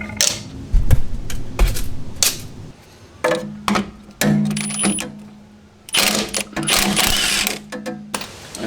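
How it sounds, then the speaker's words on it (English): Wrenching off a 13 mm cantilever nut and bolt on a Porsche 944 torsion bar carrier, heard as bursts of ratcheting clicks and metallic turning separated by brief pauses, close and fairly loud, with no voices. "now we're supposed to remove the cantilever nut and bolt, which appears to be 13 millimeter"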